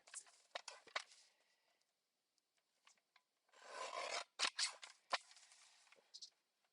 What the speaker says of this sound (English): So now I'm going to just trim this down to A2 card size.